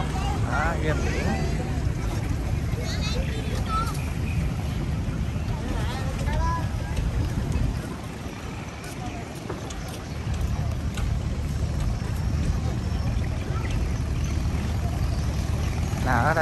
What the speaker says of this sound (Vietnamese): Ở đây có một cái vỏ lãi chạy máy nè. Chạy bay bay luôn thấy không?